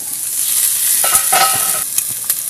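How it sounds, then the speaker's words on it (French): Sliced potatoes, with onions and mushrooms for a tartiflette, fry over high heat while being turned in the pan: a steady, bright sizzle runs throughout, with a few soft scrapes and clatters of stirring on top. "on retourne bien, on laisse cuire, donc là on a feu vif"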